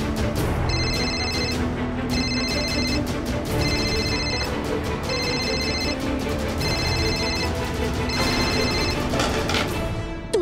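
A telephone rings in repeated bright bell-like bursts at an even rhythm, loud and persistent over a busy background din throughout.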